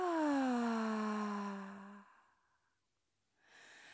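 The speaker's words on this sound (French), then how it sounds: "Expire par la bouche" A long, breathy exhale through the mouth during a guided yoga session, loud at first and then fading over about two seconds, followed by silence and a soft breath at the end.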